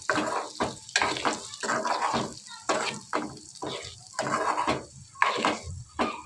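Egg frying in a pan is stirred and mixed in a run of repeated scraping, clattering strokes with short pauses, close and fairly loud over a steady sizzle.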